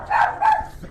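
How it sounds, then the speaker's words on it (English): A dog barks twice in quick succession at close range, loud and sharp, with no other voices over it. "She's barking."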